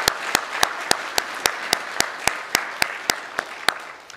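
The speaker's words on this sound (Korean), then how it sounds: "다시 한번 박수 부탁드립니다" A church congregation claps in a steady, even rhythm, about a dozen sharp claps spaced evenly over a few seconds, loud and close.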